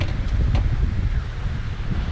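Wind buffets a microphone on a 2020 Kawasaki Ninja 400 motorcycle, a steady, loud low rumble lasting throughout with brief gusty flutters and no voices.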